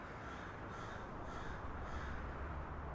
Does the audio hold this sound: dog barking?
no